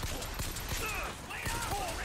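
Bursts of gunfire crack repeatedly at the player in the video game BioShock Infinite, sharp rapid shots scattered across the moment amid game effects and a voice speaking.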